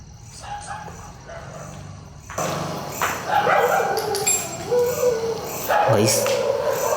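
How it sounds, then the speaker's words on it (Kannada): At night a dog barks repeatedly in short, uneven bursts. The barks are fairly close and rise and fall over a background of other noise. "ಕಂಟಿನ್ಯೂಸು ಬೊಗಳ್ತಾನೆ ಇದೆ ನಾಯಿನೂ"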